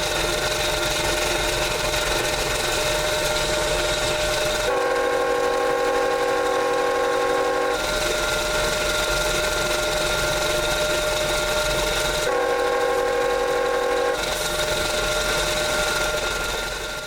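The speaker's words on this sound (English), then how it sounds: "Between its clanky prime mover and dual horns, this thing is loud" A clanky diesel locomotive with dual horns passes in Central Florida, its loud, rattling engine running steadily while two long, piercing horn blasts sound, the second shorter than the first.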